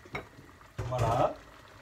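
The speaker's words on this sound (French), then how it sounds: "Je remue bien." Beef goulash is stirred in a pot: a short scrape, then a louder swish and sizzle of the spoon moving through the meat before it fades.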